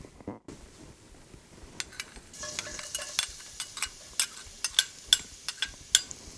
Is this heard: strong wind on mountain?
no